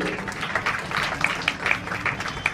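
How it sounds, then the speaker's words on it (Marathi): An audience claps for a teacher at a Woman's Day program in Ghansoli, giving dense, steady applause that sounds moderately close and continues throughout. "सर्वप्रथम गुरुजींसाठी एकदा जोरदार टाळ्या होऊन जाऊ दे"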